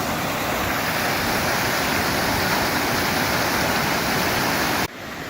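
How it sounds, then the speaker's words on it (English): A steady, dense roar of rushing water from a small waterfall on a creek trail to Lost Lake, Indian Peaks Wilderness, Colorado, fills the air, close and loud, before dropping off suddenly at the end. "Got another small waterfall over there."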